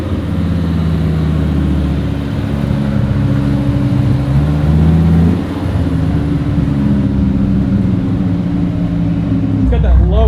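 Dodge Viper engine running loud and close, a deep steady low rumble with a slight dip midway and a change in tone near the end, heard without talk.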